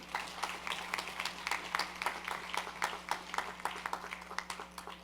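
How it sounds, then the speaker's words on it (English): A corporate awards ceremony audience claps for the Leadership Award runner-up, a steady, fairly faint patter of many hands with no voices over it. "Clap her one more time."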